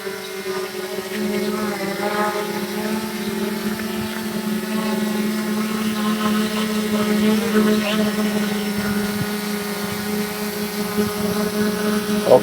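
A Fimi X8 drone's propellers buzz with a steady, high-pitched hum nearby, holding a constant tone throughout with faint background sounds.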